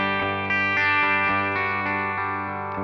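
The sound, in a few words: Gibson SG electric guitar with humbuckers through distorted amp tone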